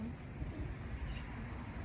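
A tumbler pigeon coos softly and low, its faint murmuring call running steadily through the short stretch with no other clear sounds.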